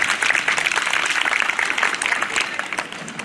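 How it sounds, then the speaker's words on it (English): Audience applause welcoming the Deputy Minister for Health at an International Yoga Day event in Durban, KwaZulu-Natal: steady, dense clapping from a sizable crowd, loud and continuous throughout. "A big round of applause, please."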